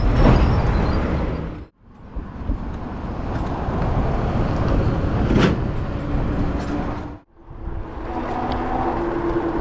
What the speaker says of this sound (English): lots of dump trucks on this route